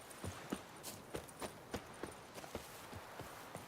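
Horse hooves clip-clop at a steady walking pace in The Witcher 3, each quiet, distinct knock falling in an even rhythm on a soft ground, faint overall and with no voices.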